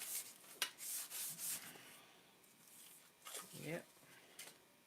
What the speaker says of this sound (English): Sanding block, sand it perfectly flat.